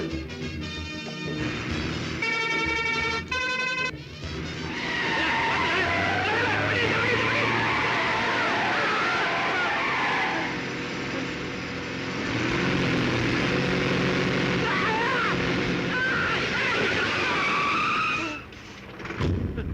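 A lorry brakes hard, its tyres skidding loudly before it slams into a car, with the crash and screeching laid over dramatic film music and shouting throughout.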